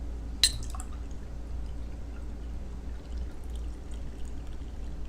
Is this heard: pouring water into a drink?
yes